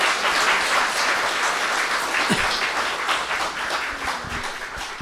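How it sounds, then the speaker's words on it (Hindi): An audience at a birthday celebration in a retreat centre gives warm applause, dense rapid clapping that carries on throughout and eases slightly toward the end, with a few louder hand claps near the front. "ताली बजा के अभिनंदन तो करो"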